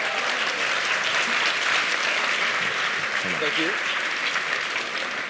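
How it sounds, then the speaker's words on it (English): Audience at a TEDx talk by a magician duo applauding the show's volunteers, a sustained, dense round of clapping throughout, with a brief spoken thank-you from the stage heard over it. "Let's give a huge round of applause to all of our volunteers for not ending my career"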